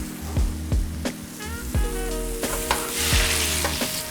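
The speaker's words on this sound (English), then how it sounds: "Let that simmer for a minute or so" Pinot Noir wine simmering and sizzling in a hot frying pan, a steady bubbling hiss with occasional clinks and scrapes of a utensil.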